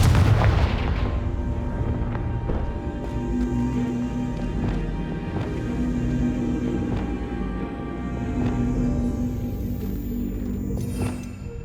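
Spell explosions from Bombarda and Confringo in the Hogwarts Legacy game on Nintendo Switch, a heavy opening blast followed by a series of sharp booming bursts and rumbles spaced over several seconds, with no talking.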